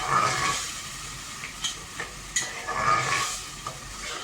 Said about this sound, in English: I will bhuno this onion for like 7-8 minutes till I will see that it is light brown in color.